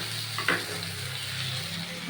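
Chopped tomatoes hit a pan of fried vegetables with a sharp burst of sizzling, and the frying then settles into a steady close crackle.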